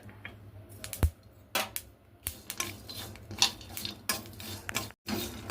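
Sesame seeds, peanuts and small pieces of dry coconut being dry-roasted in a pan, heard as close, repeated scraping and clinking of a spoon against metal in an uneven rhythm, with no talk.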